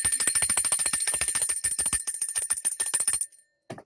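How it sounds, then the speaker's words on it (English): A bell rung rapidly and continuously, producing a dense run of bright, close tinkling strikes for about three seconds before it stops, followed by a faint late strike. "when I ring the bell, especially for a long period of time, how the volume goes out and then it comes back in?"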